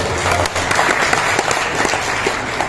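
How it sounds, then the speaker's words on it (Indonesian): A crowd claps steadily at a regional congress of the AMPI youth organisation in Tegal, Central Java, a dense, even applause lasting a few seconds with no voices over it. "Tepuk tangan untuk AMPI kita."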